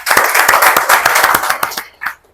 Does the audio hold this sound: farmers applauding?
yes